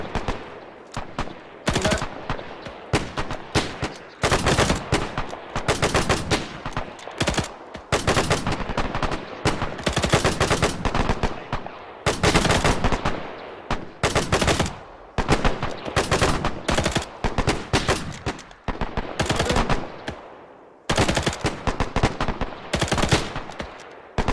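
A machine gun team fires in the Arma 3 video game, loud close bursts of automatic fire repeating in long rhythmic strings with brief pauses between them across the whole stretch.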